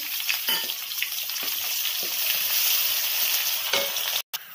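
Chopped onions for bread pulao fry in a pan with a constant, close hissing sizzle broken by a few stirring scrapes, cutting out abruptly for a moment near the end; no talking.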